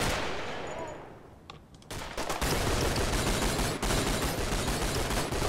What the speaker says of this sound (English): That's like a machine gun